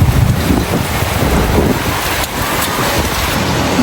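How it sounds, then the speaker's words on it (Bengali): Heavy rain pouring down, a dense, loud, steady roar with strong wind-like noise on the microphone, continuous and unbroken, no voices. "প্রচুর অন্য রকমের বৃষ্টি হচ্ছে"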